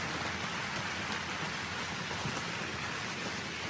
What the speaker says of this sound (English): Oh, here's the rain.